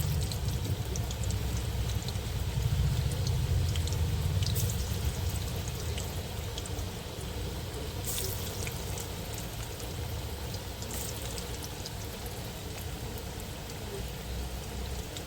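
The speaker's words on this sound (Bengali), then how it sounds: "দেখো কি সুন্দর ভাজা হচ্ছে" Dense, steady crackling sizzle of chicken pakoras deep-frying in hot oil, continuous and fairly close with no talking.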